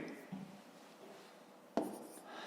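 A pen scratches out numbers on paper while long division is worked for a fifth-grade maths exercise, with faint, quiet strokes and one sharper tap near the end in an otherwise still room.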